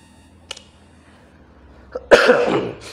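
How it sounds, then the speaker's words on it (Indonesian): Someone coughs: a faint short cough, another small one, then a louder, longer harsh cough with a throaty rasp at the end, all close and without speech. "saya ini batuk-batuk"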